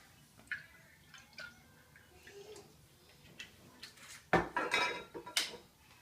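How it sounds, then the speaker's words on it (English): Kale greens being stirred in a pan on a heating stove, heard as soft scraping and rustling that builds into louder metallic clatter and utensil knocks near the end, with no talk. "And then I'm going to really start stirring like crazy as I turn the heat on."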